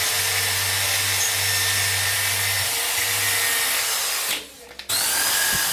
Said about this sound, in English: the gasket face is cleaned up with buffing wheel